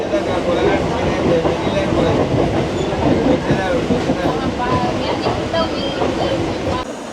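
A Howrah to Digha local train rumbles steadily along the rails near Panskura junction, a loud continuous roar with wheel clatter and brief squeals, with voices faintly audible under the noise.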